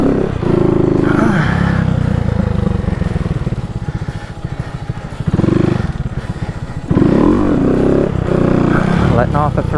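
Honda Grom motorcycle engine revving during wheelie practice, loud and close, with the throttle rising and falling in surges and a rider's voice heard at times.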